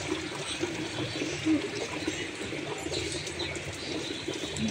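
Running water trickles and splashes steadily at close range while something is rinsed by hand in a home setting, with faint background bird cooing.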